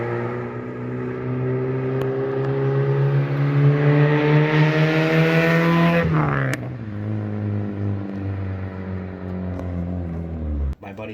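Mazda Miata exhaust fitted with a MagnaFlow muffler and Vibrant resonator, a loud droning engine tone that climbs steadily in pitch, then drops sharply and settles into a lower hum before a final abrupt cut.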